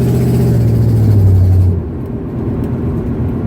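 Pandora, a stripped tribute car with no headliner or carpet, rumbles loudly up close, then its engine note drops off abruptly partway through to a quieter, lower idle.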